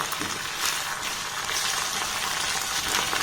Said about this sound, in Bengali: এই ডিমের মিশ্রণটা এই তেলের মধ্যে আমি দিয়ে দেব এবার এই ডিমটাকে একটু নাড়াচাড়া করে এই সাইডটা আমি ভেজে নেব